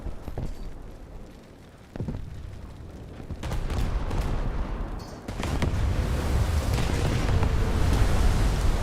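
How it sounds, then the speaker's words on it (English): Heavy booming blasts from a ship's ammo rack detonating during a naval battle in War Thunder, a sudden deep explosion followed by sustained loud rumbling and crackling, with a brief lull before a second surge. "That was definitely an ammo rack."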